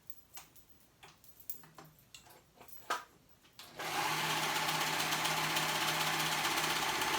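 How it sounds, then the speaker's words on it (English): A serger sews the ends of a cardigan, starting after a few light clicks and taps and then running as a steady, loud, continuous hum to the end. "So I'm gonna go ahead and sew that on my serger."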